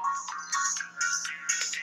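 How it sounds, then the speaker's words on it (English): A phone ringtone goes off nearby, a bright repeating electronic melody of short tonal phrases cycling rhythmically about every half second over a faint steady hum. "Oh, phone's going off."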